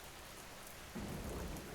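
Steady rain of a stormy night falls throughout, with a low rumble of thunder swelling in about halfway and continuing under the downpour; no voices.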